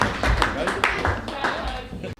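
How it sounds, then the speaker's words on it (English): A short round of applause for a best-moustache winner, with a burst of scattered claps lasting about two seconds and voices talking over it. "Let's give him a big round of applause, folks."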